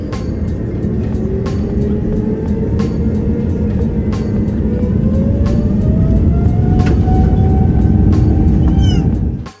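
Inside a Condor Airbus A330neo airliner during pushback and taxi to the runway: a steady, loud cabin rumble with a slowly rising engine whine building throughout, plus occasional faint clicks.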